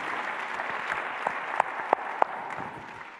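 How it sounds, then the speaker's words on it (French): A seated audience at an evening awards ceremony gives a soft, fairly distant round of applause, an even wash of clapping with a few louder close claps standing out near the middle. "On peut l'applaudir."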